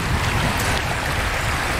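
Mississippi River water rushing steadily near Chouteau Island, a broad continuous wash with no breaks, close and fairly loud throughout.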